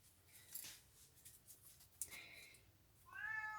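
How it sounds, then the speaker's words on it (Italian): A house cat meows indoors, a few short soft calls spaced apart, ending in a longer clearer meow, with faint rustling and small clicks in between. "È il gatto che mi ha regalato un mio carissimo amico Daniele e Sergio"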